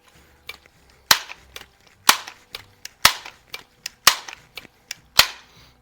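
Several sharp, loud cracks from old air guns, a Sheridan Blue Streak and a Crosman 101, fired at a target, with shots spaced about a second apart and no talking.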